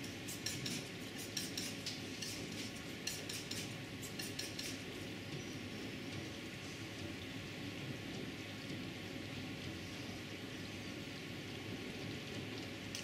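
A palette knife scrapes and taps while mixing white and red paint for a knife painting, giving quiet, close scraping and clicking that is busier in the first few seconds, then a soft steady hiss.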